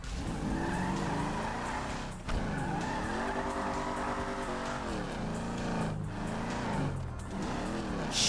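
A Ford Mustang in Grand Theft Auto V drives hard with a continuous engine drone and tire skids; gear-shift dips and pitch sweeps recur through the run, loud and steady with no talking.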